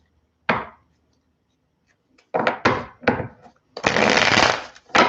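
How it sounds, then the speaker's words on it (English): Tarot cards shuffled by hand in short bursts: one quick riffle, then a run of several brisk shuffles and a longer, dense burst of riffling, close and fairly loud with no talking. "good shuffles going here"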